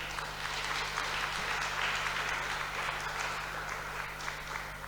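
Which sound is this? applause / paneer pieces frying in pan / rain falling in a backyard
applause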